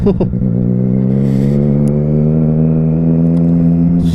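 A lightweight motorcycle engine hums steadily and close while riding, a constant droning tone with a brief rev at the start.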